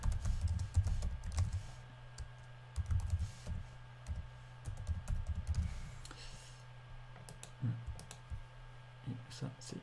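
Typing on a computer keyboard while entering a PowerPoint subtitle, with rapid irregular clicks and clatter close by and a low hum underneath.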